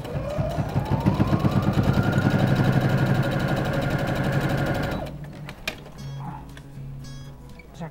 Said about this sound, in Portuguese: Agora a gente vai dobrar aqui, ó, e passar uma costura reta pra fechar aqui essa parte.